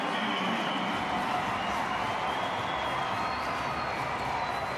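A large stadium crowd roars and cheers at the 2023 Vancouver Sevens rugby quarterfinal between Fiji and Argentina, a dense, steady wall of noise holding at full volume for several seconds.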